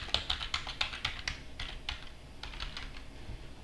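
Quick, light keystrokes on a computer keyboard as a password is entered, a soft irregular run of clicks and taps heard close by in a quiet room.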